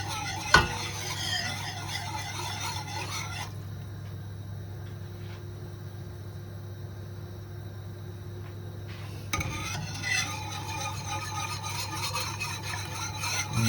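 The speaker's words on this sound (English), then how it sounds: "You can just whisk it like that and it will go away." A whisk scrapes and stirs a flour-thickened wine sauce for prawns in a pan, giving a continuous soft rasp with a faint sizzle. The stirring stops for a few seconds of quiet, then resumes.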